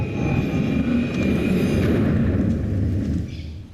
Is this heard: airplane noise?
yes